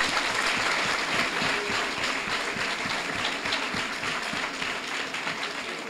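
Audience applause fills a hall at a World Philosophy Day celebration in Dakar, a dense, steady wash of many hands clapping that holds through the whole stretch with little variation.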